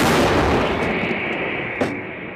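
A single heavy artillery blast, loud and booming, with a rumbling tail that fades over a couple of seconds.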